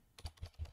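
Three quick, distinct keystrokes on a computer keyboard with a slightly faulty P key, close and clear with a dull thump under each click and no talk.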